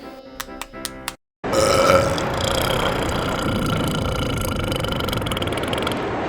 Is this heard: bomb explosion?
no